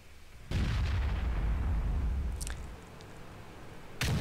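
An artillery shot fired in the tank battle game World of Tanks: a sudden loud, low boom with a sustained rumbling roll that slowly fades, then a second sharp blast right at the end.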